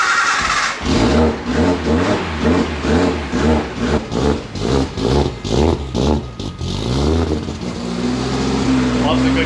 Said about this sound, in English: we're going to start it up, chuck it in gear, and see if we can still hear that noise